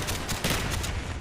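Gunfire in the video game Call of Duty: Black Ops, a rapid burst of close, loud shots continuing without pause through the whole moment.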